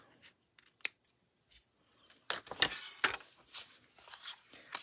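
Scissors snip through paper or fabric while trimming a Scotty dog craft piece: a few isolated close, crisp cuts early, then a denser run of snips and rustling toward the end, with no talk.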